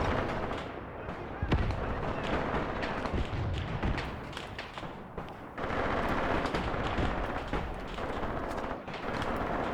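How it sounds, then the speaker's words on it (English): Mortar explosions and gunfire from the war game Graviteam Tactics form a dense, continuous rumble with scattered sharp blasts and thuds, heard fairly faintly at a distance. "Oh, the enemy might have mortars."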